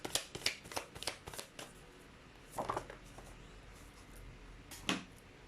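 Tarot cards are shuffled by hand in quick riffling bursts, several close crisp flutters early on, then a couple of separate shuffles after pauses, fairly quiet and with no talking.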